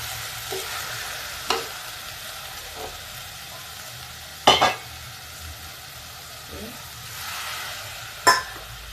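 A steady sizzle of tomatoes frying with ginger and garlic runs throughout, with a few sharp clinks and scrapes of a utensil stirring in a pan.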